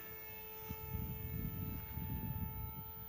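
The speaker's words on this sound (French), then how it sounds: "quelle joie de voir l'avion voler" A model airplane on its first flight after being built, giving a steady, fairly quiet engine drone with a thin whining tone that holds for the whole moment.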